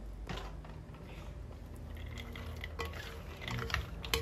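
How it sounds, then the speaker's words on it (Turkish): Hazelnuts being stirred into melted dark chocolate in a bowl, close soft scraping and clinking of a utensil against the dish, irregular strokes at a low level. "Biraz karıştırıyorum"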